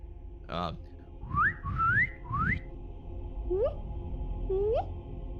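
A person whistles several short rising chirps imitating a bird call, spaced unevenly, close to the listener, with a brief breathy sound before them.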